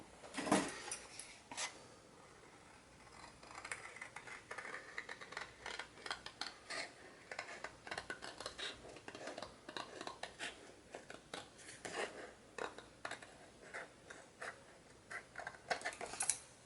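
Scissors snipping through paper while crafting a handmade envelope: a quiet, irregular run of crisp close cuts and small clicks, no voices.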